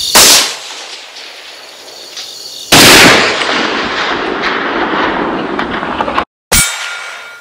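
A rifle fires at a steel target 500 yards away. Two sharp, loud gunshot blasts crack close by, each followed by a long, decaying echo, and a faint distant ring of steel is possible. No voices.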